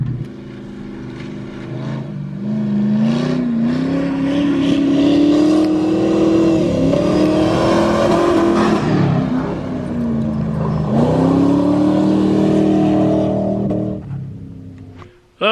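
A Gambler 500 car engine revving hard while driven, rising and falling in long loud pulls that swell and ease, heard from close by without talking before it cuts off abruptly.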